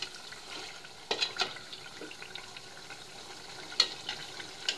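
Beef curry sizzles and crackles steadily while being braised in a pan, a soft continuous fry with a few sharper pops and stirring clatters, heard alone without talk.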